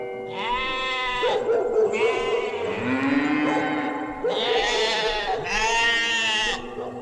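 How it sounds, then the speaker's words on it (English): Several loud, drawn-out sheep bleats from a flock, arriving in overlapping waves with no talk, strong and close throughout. "tending a flock of sheep"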